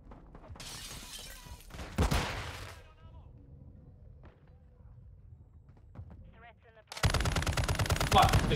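Gunfire in Call of Duty Modern Warfare II, with bursts of rapid shots near the start and around the two-second mark, then a dense, loud volley of automatic fire near the end. Quieter game ambience sits between the bursts.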